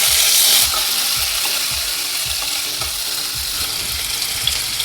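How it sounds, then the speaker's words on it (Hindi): Steady, loud sizzling of chopped onion frying in hot ghee, with faint scraping and stirring sounds, a bright hiss that eases slightly after the start. "एक डाल देंगे बारीक कटा हुआ प्याज।"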